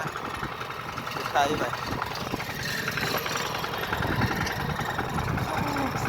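A farm tractor engine runs at a steady idle-like chug while being ridden during rain, with a continuous mid-low rumble beneath nearby talking.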